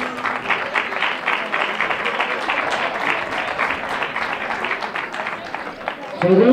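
Crowd clapping at an outdoor race award ceremony, a continuous patter of many hands at moderate distance, with a voice over a loudspeaker briefly cutting in near the end.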